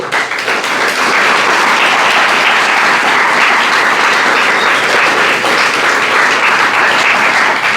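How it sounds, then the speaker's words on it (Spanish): Church congregation applauding during a sermon, loud sustained clapping from many hands filling nearly eight seconds in an even, unbroken wash with no speech on top. "Dale un aplauso al Señor."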